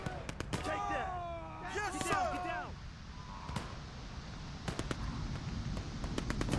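A German grenade bursts in a D-Day 1944 battle game, a sharp crack followed by scattered distant bangs and pops of gunfire, with a brief whistling tonal sweep early on and moderate, somewhat muffled loudness throughout.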